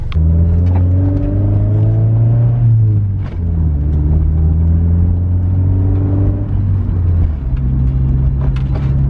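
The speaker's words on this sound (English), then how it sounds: "The exhaust drones a little bit" A steady low exhaust drone from a Honda Civic with a new exhaust cruising along, with shifting harmonic tones as it accelerates and changes speed, continuous throughout.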